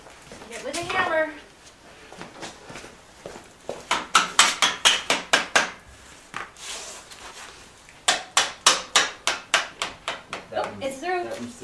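Sharp metallic hammer strikes ring out in two rapid bursts of about a dozen blows each during a 1973 Honda CB750 engine install, with voices talking between them.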